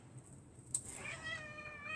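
A cat lets out a single drawn-out meow, faint but clear in a quiet indoor room, with no talking over it.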